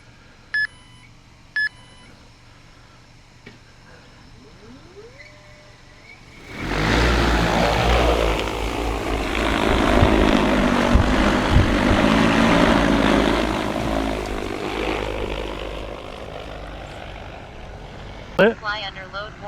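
An AUAV A70 agricultural spreading drone gives a few short electronic beeps, then its rotors spin up into a loud, steady whirring roar that holds for several seconds, with more beeps near the end.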